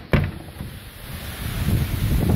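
Gusty wind on a rainy, cold day in Florida buffets the microphone with a low rumble, starting with a sudden thump and swelling steadily louder toward the end.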